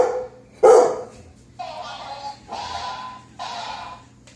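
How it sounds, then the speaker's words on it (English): A dog barks at a snowman outdoors: one loud close bark, then three slower, evenly spaced barks with short gaps between them. "20 seconds of him barking"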